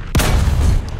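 A tank cannon fires in War Thunder ground realistic battle from a T-26E on a snowy map: one sharp, loud boom at the start, followed by a long rumbling decay with no voices.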